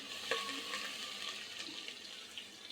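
Garlic frying in hot oil in a pot for a taro-leaf curry, a steady close hiss and sizzle with faint stirring clinks, no voices.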